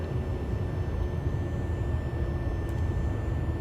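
Boeing 737 engines in X-Plane throttling back on approach to runway 11, a steady low broadband jet roar holding at a constant level throughout with no distinct change in pitch.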